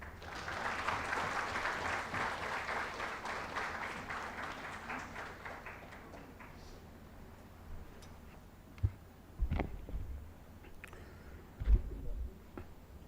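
An audience claps at a formal Statistics Day celebration gathering in India, sustained applause for several seconds that gradually thins out, followed by scattered thumps and handling noises.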